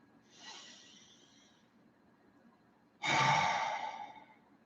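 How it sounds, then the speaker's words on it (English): Two deep breaths during a guided relaxation: a soft, slow inhale-exhale, then after a pause a louder, fuller breath out, close and alone. "Let's take a nice deep breath."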